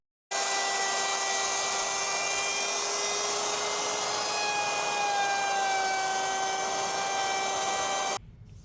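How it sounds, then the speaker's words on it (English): A power router whines steadily while beveling the edge of a wood workpiece, a loud continuous high-pitched spinning tone lasting several seconds before it cuts off abruptly. "All right, so we got this edge all routered up, looks pretty good."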